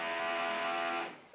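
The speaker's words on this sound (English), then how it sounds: "Apparently, there are building works occurring." Building works run in the background, a steady, droning mechanical whine with layered tones that holds for about a second and then fades away.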